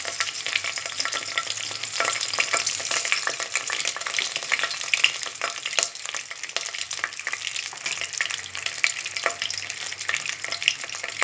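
Continuous crackling sizzle of whole spices, including bay leaves, frying in hot oil, close and steady, with occasional sharper pops and stirring scrapes.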